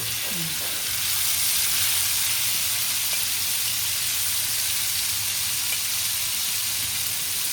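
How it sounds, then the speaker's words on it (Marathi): Pomfret fish frying in a pan without a semolina coating: a loud, continuous, dense sizzle and hiss that holds steady throughout, with no talk. "आज काय करायचं आपण हलव्याला असंच फ्राय करूया"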